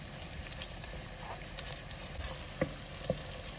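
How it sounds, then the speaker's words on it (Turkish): Homemade tomato paste stirred and melted in hot oil, a soft steady sizzle and frying crackle close by with occasional spoon scrapes and taps against the pan. "Yağda karıştırarak eriteceğiz artık."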